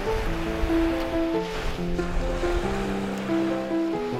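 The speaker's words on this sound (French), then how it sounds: "où les vagues caressent doucement les plages paradisiaques d'îles millénaires" Ocean waves washing onto beaches of the Balearic Islands make a steady, soft surf that blends with gentle melodic music playing throughout.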